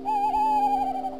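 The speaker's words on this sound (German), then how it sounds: "Dann möchte ich ja diese Eule zweimal verwenden." A recorded owl call played back in Audacity on a computer: a single sustained, soft, tonal hoot that holds steady for about a second, faint and alone.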